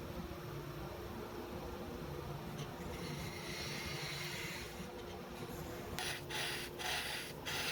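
A wood lathe spinning at roughly 2,500 to 3,000 rpm while a wooden neck is turned, a faint steady hum with a soft scraping rasp of the cutting tool against the wood, close, with no talking.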